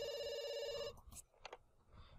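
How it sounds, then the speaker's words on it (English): Telephone ringing in the video game The Sims 2: a bright, electronic ring sounds for just under a second, then cuts off, followed by a few soft game clicks and quiet ambience. "Answer the phone."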